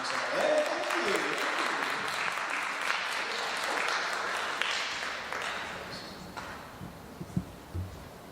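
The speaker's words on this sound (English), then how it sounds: "I'll encourage the audience to keep the applause going until the speaker" An oratorical workshop audience applauds a speaker, with dense sustained clapping that gradually thins into scattered claps toward the end, and some voices mixed in.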